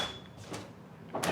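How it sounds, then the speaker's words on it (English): A door swinging shut inside the historic Jennie Wade House, a soft muffled knock near the end of an otherwise quiet room tone. "And the door just closed."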